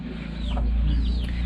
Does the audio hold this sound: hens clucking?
yes